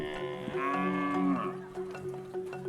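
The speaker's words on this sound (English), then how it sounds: "young boys raise the family's prized cattle" Prized cattle raised by young boys in a Dinka community beside the Nile River low with a loud, drawn-out moo, a single sustained call followed by fainter animal sounds, with no talk.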